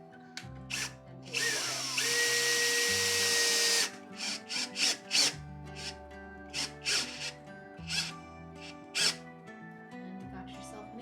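A screw gun forces a plumbing valve fitting snugly into a hole in a she shed. It gives a steady two-second whir, then a run of short bursts and clicks close by.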